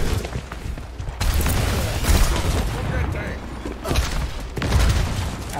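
Rapid bursts of Call of Duty gunfire crackle and boom in loud, uneven volleys, with a voice talking in Portuguese at times over the shooting.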